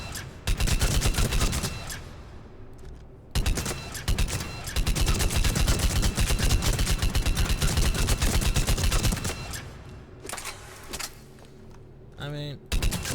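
Dense, continuous gunfire and explosions from Mass Effect 3 combat while a Gladius shotgun is in use, with loud overlapping shots and thuds running for long stretches. A voice talks over parts of the battle.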